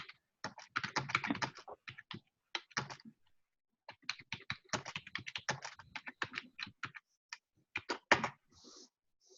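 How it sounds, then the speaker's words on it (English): Rapid bursts of keyboard typing, clattering keystrokes in uneven clusters with short pauses between them, fairly close and moderately loud. "It sounds like someone's typing"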